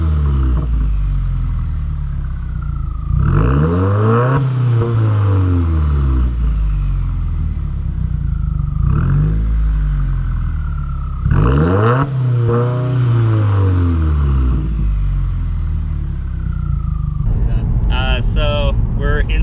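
2016 Subaru WRX with a 4-inch muffler-delete exhaust revving repeatedly, deep droning rises and falls in several distinct pulls, heard from inside the car at moderate loudness.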